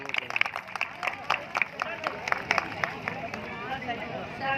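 A crowd at a Buddhist-rite mass wedding ceremony in Unnao applauds a singer, giving uneven bursts of clapping, with a voice speaking over the claps.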